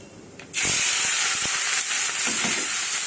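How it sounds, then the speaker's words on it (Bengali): Dried fish (shutki) hits a hot pan and starts frying. A sudden loud, hissing sizzle bursts in after a quiet half second and continues steadily, with faint clinks of the pan underneath. "আমি আগে সুটকিটা ভেজে নেই"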